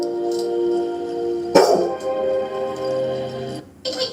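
A dog gives a single sharp bark midway, close and loud, with a softer yip near the end over a steady background hum.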